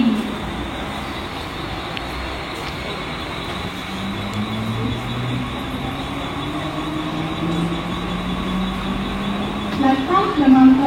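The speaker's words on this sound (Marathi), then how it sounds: "6:26 की मुंबई छत्रपति शिवाजी महाराज टर्मिनस जाने वाली तेज लोकल थोड़े ही समय में प्लेटफॉर्म क्रमांक 4 पर आ रही है।" A fast local train pulls in to platform 4 at a Mumbai station, a steady rolling rumble with rising and falling tones that carries on throughout, busy platform noise around it and a brief louder screech near the end.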